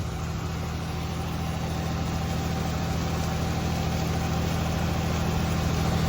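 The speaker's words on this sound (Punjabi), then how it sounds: "ਇਹਨੇ ਜਨਰੇਟਰ ਲਾ ਕੇ ਮੋਟਰ ਸੋਲਰ ਤੇ ਚੱਲਣ ਵਾਲੀ ਏ" A generator drives a water pump motor lifting irrigation water on a farm, giving a steady, unbroken engine drone with a low, vibrating hum that holds at an even loudness throughout, with no voices.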